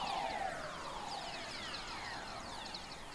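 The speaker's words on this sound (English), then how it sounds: "their names comes from the sound they make when you pick them up on Earth's radios" Whistler waves picked up as a radio recording from space plasma, many overlapping descending whistling tones sweeping down in pitch over a steady hiss, continuous and somewhat faint with no voices.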